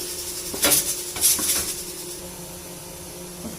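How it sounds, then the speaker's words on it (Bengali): Hot oil is stirred in a pan for a Bengali fish curry with elephant foot yam, bringing a couple of sharp metallic scrapes and clinks of the utensil over a low kitchen hum and faint sizzle. "তেলটাকে একটু নাড়িয়ে দিলাম।"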